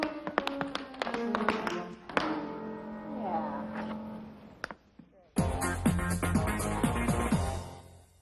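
Crisp tap shoe steps click and clatter in quick rhythmic bursts, loud and close, with a short pause before a dense, faster flurry of taps.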